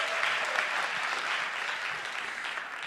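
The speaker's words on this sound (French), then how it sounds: "Est-ce qu'on peut donner une dernière main d'applaudissement à l'équipe de louange?" A church congregation gives a final round of applause to the worship team, a steady wash of clapping from a roomful of people, even and sustained throughout and slowly easing off at the end.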